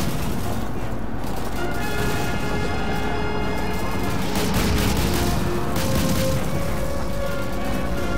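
Dense, continuous Call of Duty 2 combat noise with booming bazooka blasts and crashing impacts layered over rapid gunfire, loud and unrelenting throughout.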